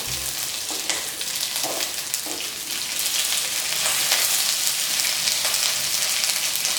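Chopped onions and baby corn fry in a pan with steady, loud sizzling that continues for several seconds and builds slightly toward the end, with no talking.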